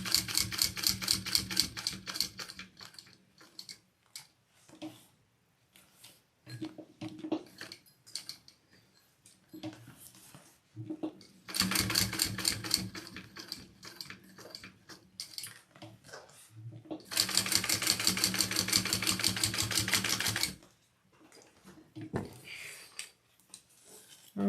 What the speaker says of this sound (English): I'm going to do a second row stitching.